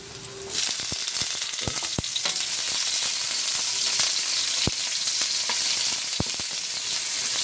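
Onions for a chicken liver and gizzard adobo with vegetables fry in a pan with a continuous loud sizzle and hiss, punctuated by sharp clicks and taps of stirring.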